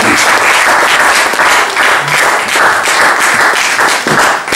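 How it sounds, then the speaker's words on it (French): A church congregation claps loudly and continuously for Jesus during a worship service, a dense, sustained roar of many hands close by. "Acclamons très fort Jésus"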